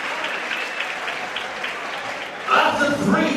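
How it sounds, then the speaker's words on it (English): Audience applause fills an arena after a three-round kickboxing fight, a steady dense clatter of many hands that swells louder near the end, with a voice over the crowd. "please give both these men a huge round of applause"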